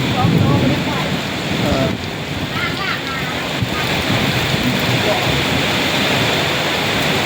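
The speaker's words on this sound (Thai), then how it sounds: "พายุฝนครับ ฝนตก หยุดแล้วมาใหม่ครับ อันนี้เป็นลมกับฝนมามัน" Heavy rain driven by strong wind during a storm in Nakhon Phanom, Thailand, a loud, steady rush of wind noise and pouring water with no break.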